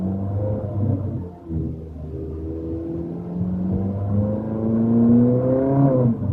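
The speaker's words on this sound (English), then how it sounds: "you want to hear this car actually echo off windows, buildings, and whatever" A Ferrari 458 Speciale's engine drones and rises in pitch, a sustained tonal roar that swells toward the end and reverberates off surrounding buildings, loud and continuous with no talk.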